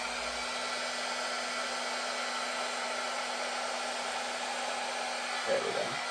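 A hair dryer blows steadily and close, pushing acrylic paint across a canvas in a fluid art flower pour, with a constant whooshing drone and a faint brief tap near the end.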